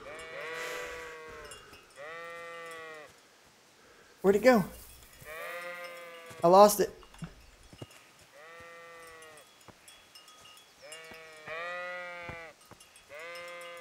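Sheep in the video game Kingdom Come: Deliverance give repeated, drawn-out bleats, some overlapping and several loud and close, spread across the stretch with someone talking in between.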